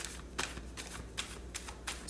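Tarot cards being shuffled by hand in a few quick riffling bursts, close and fairly loud, with no talk over them.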